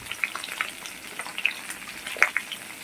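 Spices fried in a pan, with turmeric and chilli powder going in among the ingredients, give a steady close sizzle with bright crackles and a few sharper pops, no voices over it.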